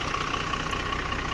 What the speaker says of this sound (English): So let's check out that engine.